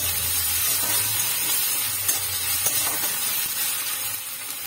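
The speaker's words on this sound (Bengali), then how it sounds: "এর মধ্যেই আমি রসুন আর আদা দুটো একসঙ্গে একটু ভেজে নেব।" Garlic and ginger frying in hot oil with onion, a steady soft sizzle and hiss running throughout, with a few faint clicks of utensils against the pan.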